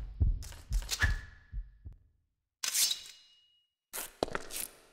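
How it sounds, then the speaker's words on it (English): Heartbeat sound effect in a Minecraft horror map: loud, close double thumps in a quick run, a brief silence, then more thumping pulses with sharp clicks. "My heart beating so fast."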